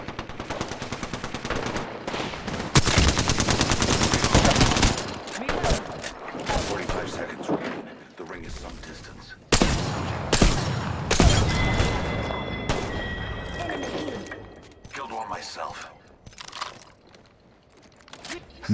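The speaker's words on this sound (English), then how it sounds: "Taking fire." Sustained automatic gunfire and explosive bursts from a Halo video game firefight, loud and dense with rapid volleys, a few sharp blasts and lulls, overlaid by game sound effects and occasional voices.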